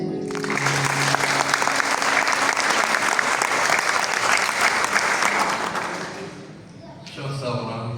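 An audience applauds at a jubilee celebration in Goychay, giving sustained dense clapping that fades briefly near the end before a short rise. The clapping continues with no break until then.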